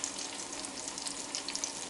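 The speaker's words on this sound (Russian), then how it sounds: "жарится на медленном огне" Fish fries in a pan on low heat, giving a steady soft sizzle and crackle with faint hiss throughout, moderately quiet and with no speech.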